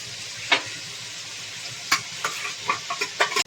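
Steady sizzling hiss of masala frying in a pan for chicken curry, with occasional scraping stirs and clinks of a utensil against the pan.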